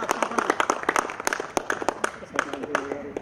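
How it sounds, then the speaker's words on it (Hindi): An audience clapping, a dense ragged patter of many hands at a steady moderate level, with a voice faintly over it. "बजाइए आप अपने लिए जोरदार ताली।"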